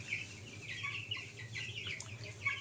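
Three-week-old chickens on starter feed cluck and cheep softly in a steady chatter, close by, under a low background hum.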